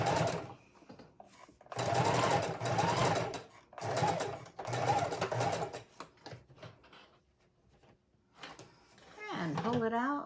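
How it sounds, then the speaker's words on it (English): A sewing machine stitches ribbon onto a junk journal page in several short bursts separated by pauses, close and clear, with a voice talking briefly toward the end. "it's sewing up the ribbon onto the side"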